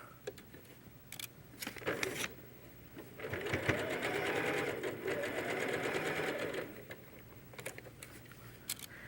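A sewing machine stitches quilt pieces in a steady whirring run of several seconds, close and moderately loud, framed by brief clicks and handling noises before and after.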